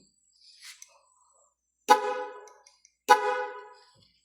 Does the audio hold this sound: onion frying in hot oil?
no